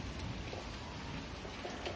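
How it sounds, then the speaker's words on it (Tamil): Night rain brought by the southwest monsoon falls as a steady, faint, even hiss with soft scattered patter and a thin constant high tone over it throughout. "இந்த தென்மேற்கு பருவக்காற்றுனால தான் இப்ப மழை பெய்யுது"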